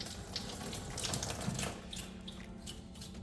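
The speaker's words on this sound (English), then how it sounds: "I run hot water through the valve." Steady rush of hot tap water running through a Toyota Highlander PCV valve and splashing into a sink, continuous and close, with no talking.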